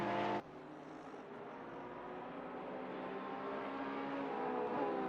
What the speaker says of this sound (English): As we see the Porsche in the background, they're exiting the pits.